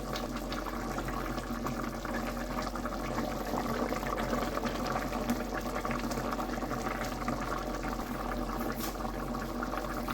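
A pot of mutton curry boils steadily, with continuous bubbling and a constant low rumble from the burner, close and alone without voices.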